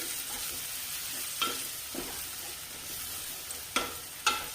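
Ginger and garlic sauté in a pan for Kuttanadan-style duck curry, giving a soft, steady sizzle broken by a few sharp spoon scrapes against the pan.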